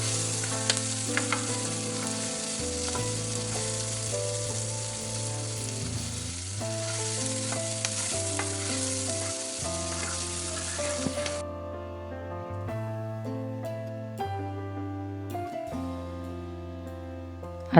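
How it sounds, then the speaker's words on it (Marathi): Finely chopped medium onion fries in oil for a butter egg masala, a continuous close sizzle with occasional stirring scrapes, while music plays underneath throughout. "आता आपण या कांद्याला छान असा गुलाबी रंग येईपर्यंत तळून घेणार आहोत."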